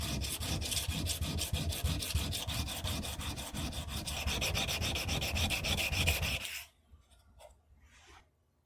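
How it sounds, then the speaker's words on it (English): Sandpaper rubs back and forth in a steady, close rhythm against the front face of a small steel loading gate for a Belgian pinfire revolver, held at a slight angle; the strokes stop near the end, leaving quiet handling noises. "Here I'm sanding the front face of the gate at a slight angle."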